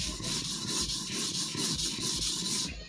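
A sujihiki kitchen knife is stroked across a Dabato 1000-grit ceramic whetstone, making a steady rhythmic gritty rubbing of repeated back-and-forth passes, close and fairly quiet, with no voices.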